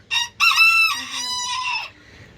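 A rooster in a chicken coop lets out a brief cluck, then one loud, close crow lasting nearly two seconds.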